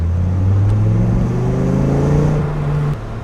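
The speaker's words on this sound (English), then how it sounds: "That's a good sounding engine." A 2000 Dodge Viper engine revs up close, its pitch climbing steadily as it accelerates, then the sound drops away at the end.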